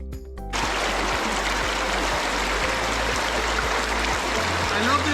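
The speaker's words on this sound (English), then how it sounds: "A million bubbles babbled downstream" Stream water flows and burbles near Pali waterfall close to Valpoi, Goa, a steady broad rushing wash starting after a brief quiet moment, close and constant with faint gurgles beneath it.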